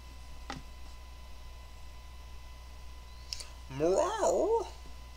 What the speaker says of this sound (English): says the little Meowth